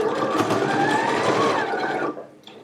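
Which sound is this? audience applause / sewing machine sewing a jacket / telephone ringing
sewing machine sewing a jacket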